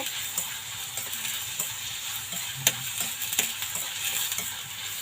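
Onions stirring and sautéing in a pan until golden for a mushroom curry, a steady broadband sizzle with scattered scrape and clink accents of the spoon, close and moderately loud, no voices.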